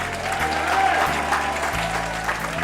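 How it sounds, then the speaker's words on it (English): Wedding guests at a reception applaud the flower girl and ring bearer, a steady ripple of clapping throughout, with music playing underneath. "Give them a round of applause"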